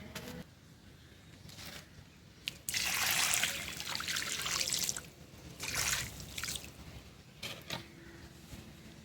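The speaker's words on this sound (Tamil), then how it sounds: "இனி நம்ம தண்ணி ஊற்றி விட்டுடலாம்" Water poured onto the soil of a rose plant splashes and trickles steadily in bursts, a close pouring sound that swells and fades several times with quiet gaps between.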